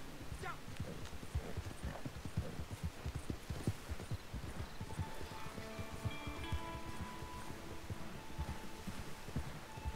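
Horse hooves clip-clopping steadily at a quick gait in Red Dead Redemption 2 Online, a continuous rhythmic clatter of hoofbeats with rustling ambience and faint background tones.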